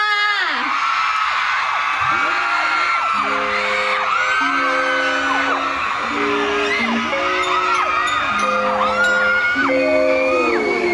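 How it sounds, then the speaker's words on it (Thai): A loud crowd whoops, screams and cheers continuously at a live event at ICONSIAM, Bangkok, while music with sustained tones plays underneath. "ขอเสียงประเมินแล้วก็กรี๊ดดังๆให้คุณก้าฟค่ะ"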